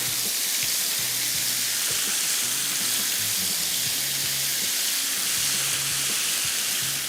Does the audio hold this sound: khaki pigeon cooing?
no